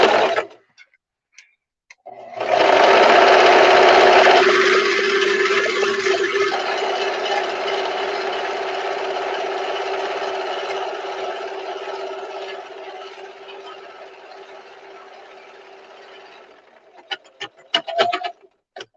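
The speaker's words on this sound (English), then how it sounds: "You guys don't have to sew as fast as I do." A sewing machine stitches a row along a simple spooky skirt, running as one long fast continuous whir for roughly fifteen seconds before it stops and leaves a few scattered clicks.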